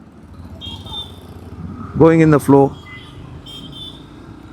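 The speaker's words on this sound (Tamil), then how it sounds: "இப்போ நான் செகண்ட் கியரில் இருக்கேன் பட் செகண்ட் கியர்லேயே கிளைட் ஆகிறேன்" A 150cc sports motorcycle rides along a road in second gear, its steady low engine and road rumble running throughout, with someone speaking briefly over it midway.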